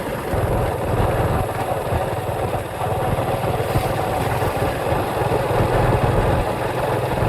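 A large motorcycle engine idles steadily nearby, a continuous low rumble with no talk over it.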